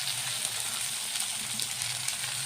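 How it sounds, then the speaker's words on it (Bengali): Tomato and onion sauté in a pan for a Bengali latha fish curry, giving a steady, even frying sizzle that runs unbroken throughout at moderate level, with no voices. "এবার এই টমেটোটার সঙ্গে পেঁয়াজটাকে ভালো করে কষিয়ে নেবো।"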